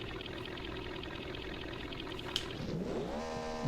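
Renault Twingo in a drag race, a loud, harsh engine note building in a steady roar and then climbing sharply in pitch as it accelerates hard.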